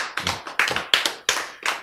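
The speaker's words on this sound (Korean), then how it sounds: "박수." A handful of sharp claps in a church setting, about six distinct bursts in irregular rhythm, close and fairly loud, each one quickly fading with no talk in between.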